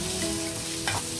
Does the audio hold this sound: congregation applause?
no